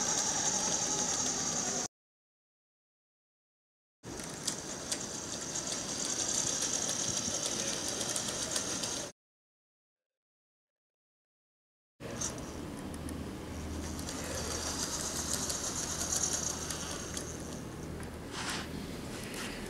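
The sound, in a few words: Hasbro BB-8 Star Wars toy droid driving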